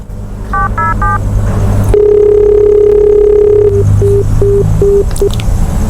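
Loud phone keypad tones beep three times, followed by a steady dial tone and then a series of short, evenly spaced beeps.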